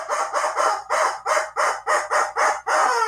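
Rubber chicken toy squeezed to mimic a rooster's crow, giving about nine loud, close, rhythmic squawking bursts in a steady train, each one a harsh nasal honk.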